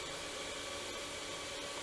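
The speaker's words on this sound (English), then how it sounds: "you'll see the shipping blower on the left" A shipping-area blower runs steadily in a carburetor shop, a constant close whooshing drone with no pauses and no voices.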